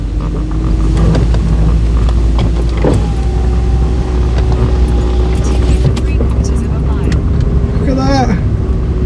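A car travels over a badly rutted road near a level crossing, making a loud, unbroken rumble of engine and road noise with a few faint knocks and squeaks mixed in.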